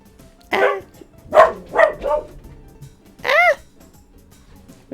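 A dog barks five times in two quick clusters, loud and close, each bark sharp and ringing with no talking over it.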